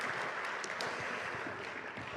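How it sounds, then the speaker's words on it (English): A church congregation claps in steady, dense applause throughout, loud and continuous with no voices over it. "everybody give a round of applause to wonderful people"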